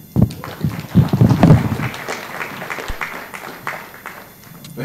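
An audience at the African Australian Awards 2022 ceremony applauds, with a dense patter of clapping that is strongest early and then thins to scattered claps, along with some muffled voices.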